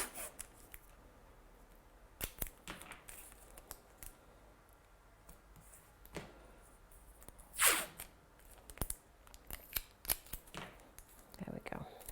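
Adhesive tape is pulled and torn in an art studio: a series of scratchy rips and crackles, the loudest tear near the middle, over a quiet background.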